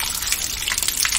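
Pumped well water gushing hard from a tap fed directly by a motor pump with no storage tank, giving a steady, loud, close rush of water throughout with no talking.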